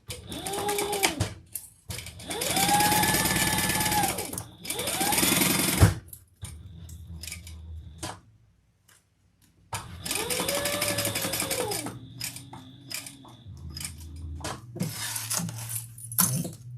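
A sewing machine top-stitches around skived leather pieces. It runs in several loud, steady bursts of rapid stitching, with quieter handling noise and pauses between runs.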